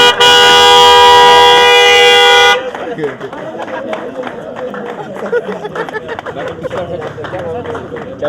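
A car horn sounds as one long steady blast at the start, loud and close, then stops, leaving people talking over outdoor background noise during a new car handover.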